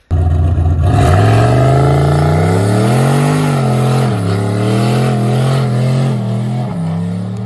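A 2006 Nissan G35 drift car with a six-speed manual and rev-up engine runs loud and close, a steady rough idle that rises and dips in pitch as it is revved, with no talking.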